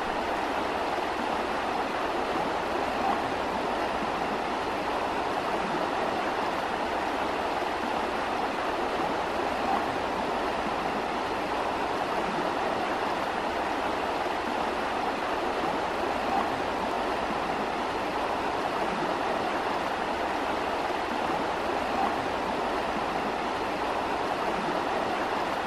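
The Espa river flowing beside a suspension bridge on a hiking trail in Valdés, Asturias, a constant close rushing of water with an even, unbroken roar and no voices.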